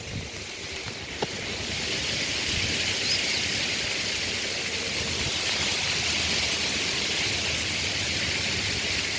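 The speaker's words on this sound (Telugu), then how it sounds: "వాగు ప్రవహిస్తుంది చూడండి" Steady rushing water of a stream flowing beside a small temple under a peepal tree in a natural setting, a constant broad hiss with no voices.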